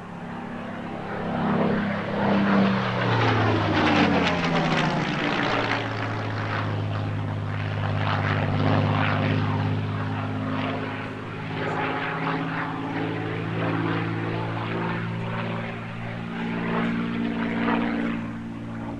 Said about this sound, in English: The most keenly awaited Spitfire appearance of the year was the airshow debut of the Hangar 11 Collection's former Soviet Air Force Spitfire Mark 9